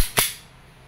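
A WE 2011 Hi-Capa T-Rex 5.1 gas blowback airsoft pistol loaded with 6mm BBs fires a single sharp, loud crack up close, followed by a brief decaying tail.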